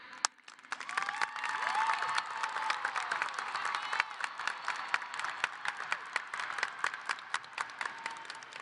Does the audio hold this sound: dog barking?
no